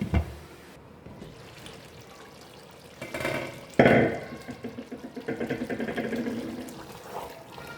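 Hot water pouring and splashing into a cooking pot of beef and sweet pumpkin curry, a sudden gush followed by rhythmic glugging and bubbling, fairly close.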